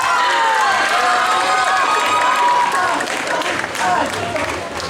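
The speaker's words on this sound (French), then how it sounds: "Encouragez-les en applaudissements" An audience at a cosplay contest applauds and cheers loudly, dense clapping mixed with whoops and shouted voices, steady and close, easing slightly toward the end.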